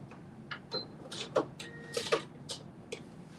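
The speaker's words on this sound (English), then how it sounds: "And back stitch." A sewing machine back stitching along a dress hem, with short bursts of mechanical clicking and whirring spaced across a quiet background.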